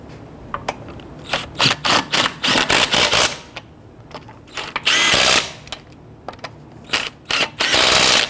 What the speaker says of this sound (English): Once we have them all started, we're going to go ahead and snug them down.